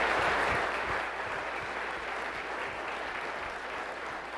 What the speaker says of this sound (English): If we could just give a round of applause to the late Lindsay Atwood and his wife, Laura.